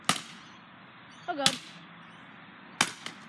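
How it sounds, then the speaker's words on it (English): Sharp, loud cracks of a baseball bat smashing a computer battery pack, three separate hits spaced apart with a brief scrape between, while people talk and exclaim nearby. "I'm just breaking the battery pack, seriously"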